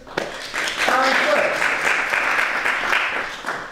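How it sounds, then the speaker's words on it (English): An audience at a Valentine's plays performance breaks into a steady round of applause, loud and dense for several seconds, with a few voices rising faintly through the clapping. "Round of applause for her, please."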